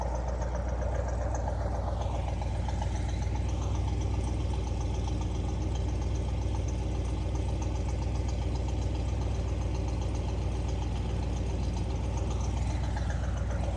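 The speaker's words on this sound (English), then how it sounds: "Very nice sounding exhaust" A 1973 Chevrolet Corvette with a 454 big-block V8 idles through its exhaust, a steady deep rumble with a low throbbing burble held close and even throughout, with no talk over it.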